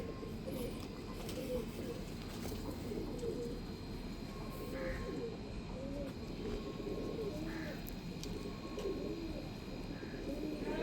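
Soft, repeated pigeon coos in a low register, continuous under a steady outdoor background with occasional faint chirps.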